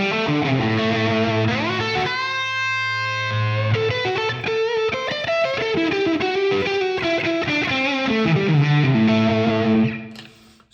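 Electric guitar through a Quad Cortex Brit Plexi 100-watt amp model, bass dipped and mids boosted, rings out as a thick, distorted riff of sustained chords and notes, loud and steady throughout before cutting off at the end.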